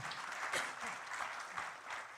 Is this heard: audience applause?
yes